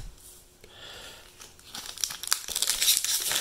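Foil wrapper of a March of the Machine Magic booster pack crinkling, starting quiet and growing into loud, dense crackling and tearing over a few seconds.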